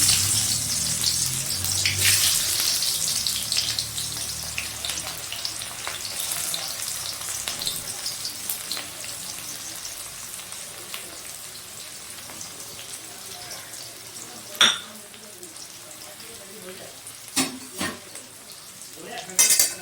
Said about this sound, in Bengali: এবার আমি পেঁয়াজ কুচিয়ে সেটা ভাজতে দিচ্ছি